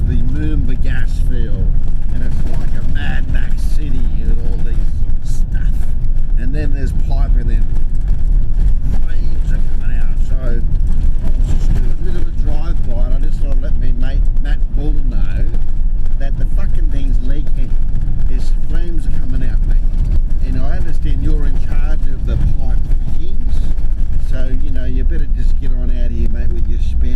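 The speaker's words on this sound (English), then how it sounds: "I'm just driving past the Moomba gas field" A vehicle drives a rough, corrugated outback dirt track in Australia past the Moomba gas field, its loud engine and road roar constant and close while someone talks over it.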